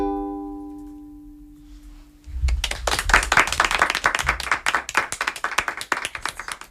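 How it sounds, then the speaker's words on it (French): Soft applause from a small audience at a festival performance rises after a fading sustained tone, with scattered claps continuing up close and no speech. "Même quand on applaudit, on a envie d'applaudir pas fort"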